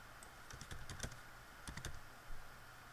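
Typing on a computer keyboard while writing an SQL script, with soft, close key clicks in short clustered bursts separated by pauses over a steady background hiss.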